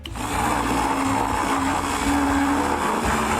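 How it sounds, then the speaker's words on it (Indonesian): Candy crushed in a blender, a steady loud whirring motor with grinding texture running continuously without pause, no voices. "Sekarang kita taruh masing-masing ke dalam blender. Dan kita hancurkan."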